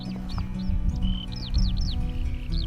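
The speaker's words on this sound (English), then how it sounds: "bird on a tree." Small birds chirp from a tree in a village, short bright tweets repeating in quick bursts over a steady low background hum, fairly close and moderately loud with no talking.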